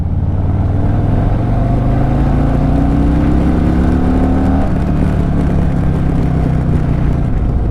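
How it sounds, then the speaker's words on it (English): A 2024 Harley-Davidson Fat Boy 114 motorcycle engine accelerating, a loud close low rumble with rising pitch sweeps as it pulls through the gears, steady and continuous. "Look at the torque. You know, the 114 engine."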